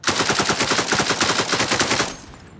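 A fast automatic burst of about twenty rapid shots from a gun in the sandbox video game Beyond Sandbox rattles out close and loud for two seconds, then stops with a short fading tail.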